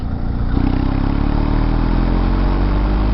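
A BMW R1250GS motorcycle engine at full throttle in sixth gear at 50 km/h: a loud, steady, low droning rumble that holds constant throughout, with no talking.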